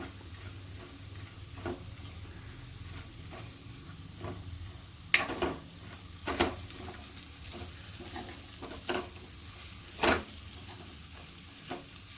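Dry fruits roast in a spoonful of ghee in a pan, giving a soft steady sizzle with scattered light stirring scrapes and taps, fairly faint and with no talking.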